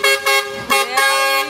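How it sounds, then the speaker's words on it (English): A garbage truck horn in Portland, Jamaica hoots in four loud, close, rhythmic blasts that call residents to bring out their trash. "I don't know if you heard the hooting."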